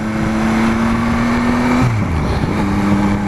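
A Yamaha Tracer 9 GT motorcycle engine holds a loud, high, even rev, then drops sharply and settles at a lower pitch, heard up close with no speech.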